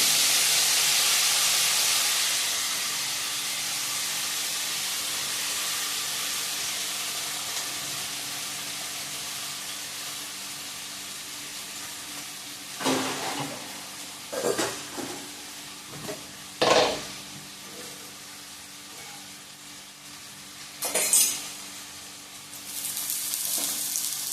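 Cauliflower fries in a pan for a festival meal, a steady broad sizzle that starts loud and slowly settles, with several sharp stirring scrapes and clinks of a utensil in the second half.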